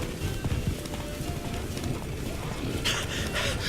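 Roach, the horse in the Witcher 3 video game, gallops with quick, rhythmic clip-clop hoofbeats close by. A burst of brighter noise enters near the end.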